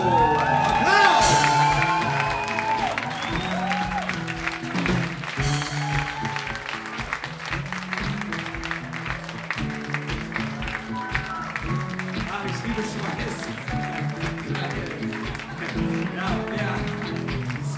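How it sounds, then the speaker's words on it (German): A studio crowd claps and cheers for a performer introduced on a German stage show, with scattered whoops and shouts. The loud opening burst settles into steady applause as a voice carries on over it. "Applaus"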